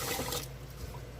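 Cool tap water running over rice being rinsed, a steady close splash and trickle that eases after the first half second.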